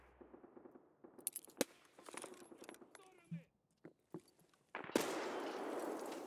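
Grenade in a video game bouncing off a wall, with scattered clicks and sharp knocks followed by a loud explosion that bursts in near the end and leaves a sustained roaring wash.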